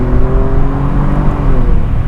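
An Alfa Romeo Giulia Quadrifoglio engine revs hard above 4,000 RPM, a loud, close, steady high-rpm roar with strong harmonic tones that slowly shift in pitch, heard alone for about two seconds.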